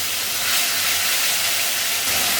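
Cumin and coriander spice paste fries with a splash of water in hot oil, producing a continuous loud steamy hiss that stays even and close throughout.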